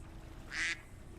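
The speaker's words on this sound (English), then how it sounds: "Oh, look, some ducks." A single short, nasal duck quack rises out of a low, steady background hum, faint and somewhat distant, with no voices.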